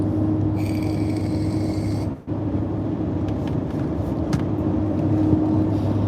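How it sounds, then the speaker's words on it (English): A 2018 Ford Raptor pickup on 35-inch tires cruising down the road, giving a steady low tire and road roar with a constant drone; a brief dip interrupts it, and no one speaks. "this Raptor's on 35-inch tires, so they make a little bit more noise"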